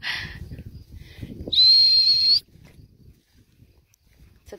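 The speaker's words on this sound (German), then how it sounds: "Ich brauche noch einmal pfeifen und das sind alle da." A single sharp, high whistle blast lasting about a second calls a pack of dogs outdoors, heard over soft footsteps and rustling ambience with quiet movement afterward.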